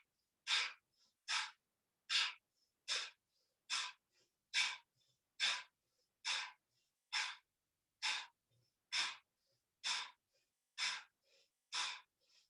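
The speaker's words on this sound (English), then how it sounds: "We're going to do 1 round of breath of fire. Just an exhale. 20 breaths." Breath of fire in a yoga practice: a series of about fifteen sharp, forced nasal exhales in an even quick rhythm, each a short airy puff separated by brief silence, close and clear with no talk.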